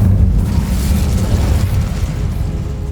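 A fire spell cast in the Hogwarts Legacy video game bursts out as a loud, close, rumbling whoosh that holds for a few seconds without fading.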